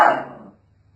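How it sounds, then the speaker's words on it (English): A small dog gives a single loud, deep bark close by. It fades over about half a second and then goes quiet. "he had a huge bark"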